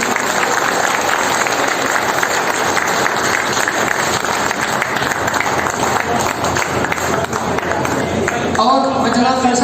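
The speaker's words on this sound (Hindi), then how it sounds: "जनाब फैसल के लिए बहुत जोरदार तालियां" Enthusiastic applause from a gathered audience at a family reunion gathering, dense and loud for most of the stretch before a voice begins speaking over it near the end.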